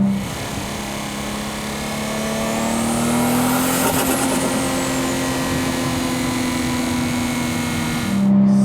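A tuned Nissan Skyline R32 GT-R engine revs hard and loud, rising to a high-pitched whine and holding a steady roar for several seconds before cutting off abruptly.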